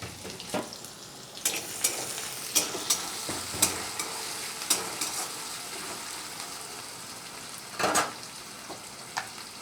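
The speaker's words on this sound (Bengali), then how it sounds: "এবার পেঁয়াজ কুচি দিয়ে দিলাম।" Chopped onion frying in oil tempered with a bay leaf, for a rohu fish and potato curry, a moderate sizzle with regular spatula scrapes and taps, close up and without talk.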